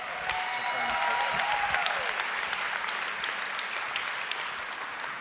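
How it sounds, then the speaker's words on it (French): An audience applauding at a round-table gathering, a sustained, even roar of many hands clapping at moderate distance, with a brief voice audible near the start. "Veuillez faire un tonnerre d'applaudissements pour Michel Gottlieb."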